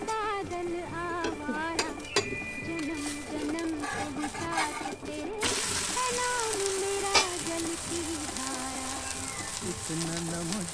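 Talipattu dosa cooks in oil on a pan with a steady frying sizzle throughout, growing brighter and denser midway, while background music plays over it and occasional clinks sound.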